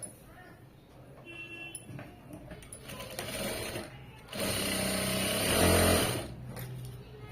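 A sewing machine runs in short bursts, then stitches in a steady, louder stretch of a couple of seconds before slowing, heard close indoors with faint voices in the background.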